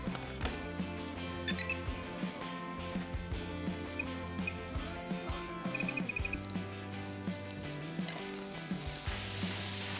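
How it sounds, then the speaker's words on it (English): Lardo slices and guanciale lardons render their fat on a hob while onions fry in it, giving a steady, close sizzle with crackling pops and occasional utensil clinks that runs throughout, with no talking. "we're rendering the fat from the lardo and the guanciale, and the onions are cooking in it"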